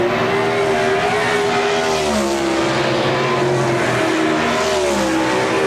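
360 sprint cars race a heat around the dirt oval at Park Jefferson Speedway, engines roaring loud and continuous, with pitch rising and falling as the cars accelerate and back off through the turns.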